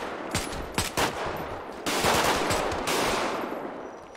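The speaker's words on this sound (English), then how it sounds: "Why is she shooting, man? Why is she shooting?" Gunfire in GTA 5 role-play: rapid bursts of shots followed by a dense, sustained fusillade, loud and close, with no talking over it.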